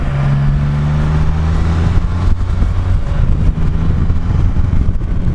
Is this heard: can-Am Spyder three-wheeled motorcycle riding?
yes